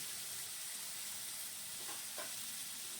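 Chili, onion and garlic paste frying in a pan for a potato chicken curry, a steady broad sizzle with faint crackles, close and continuous with no talking.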